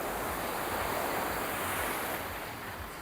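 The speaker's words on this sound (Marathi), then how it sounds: "पाण्याला करंट किती बघा, पूर्ण हाय टाईड आहे" Strong high-tide waves at a Goa beach surge and roar continuously. The broad, hissing wash of surf comes close and loud, with wind noise on top and no voices.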